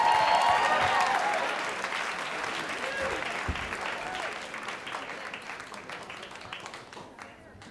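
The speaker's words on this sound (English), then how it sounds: "Keep your applause going now for Jeff Simmermon." Audience applause for a comedian at a stand-up comedy show in New York, a dense, loud wash of clapping from a crowd that slowly tapers off over several seconds, with cheers and voices mixed in.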